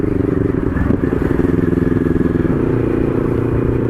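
Idling engine of an NK400 motorcycle that has sat stored for a long time, being warmed up on a road trip: a steady, low, pulsing putter with a faint clatter, close and continuous throughout.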